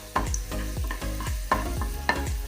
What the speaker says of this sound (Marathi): आता मी त्याच्यामध्ये मनुका फ्राय करून घेणार। मी हे जरा परतून घेते।